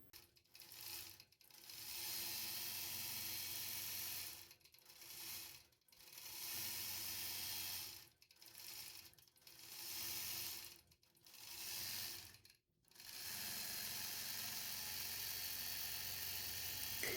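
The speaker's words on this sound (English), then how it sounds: "this is the Gamma Statler stitcher that I'm using and stitching out this beautiful edge-to-edge Baptist fan design" A Gammill Statler Stitcher longarm quilting machine stitches an edge-to-edge Baptist fan design through a quilt with a wool batting layer, a steady mechanical whir broken by repeated short pauses as the head changes direction.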